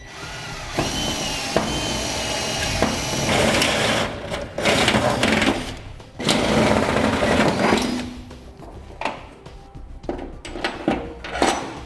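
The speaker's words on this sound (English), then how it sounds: "now we'll enlarge our holes with a step bit to the size indicated in the instructions" Step bit enlarging holes in metal during a Curt Double Lock gooseneck hitch installation, a loud, close drill whine grinding in long runs that stop and restart several times, ending in scattered clanks.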